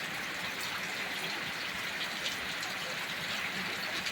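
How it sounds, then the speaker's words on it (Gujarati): Steady rain falls with light wind over a rural farm area, a continuous even wash of hiss that stays constant throughout, with no voices. "જોઈ શકો છો વરસાદ એવો છે મિત્રો, એકદારી કાઢી જાય છે મિત્રો"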